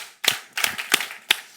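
A congregation at a Sunday youth worship service claps in unison, giving four sharp, evenly spaced claps in about a second, each crisp and close with a quick decay.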